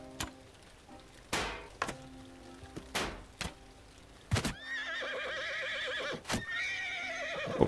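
A horse neighs loudly in the Amir Timur Bandit Kingdom campaign of a medieval strategy game, its whinny rising over a busy battlefield soundscape of sharp thuds and impacts and a steady din.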